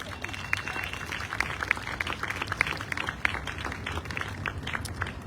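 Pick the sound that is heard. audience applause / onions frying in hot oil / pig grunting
audience applause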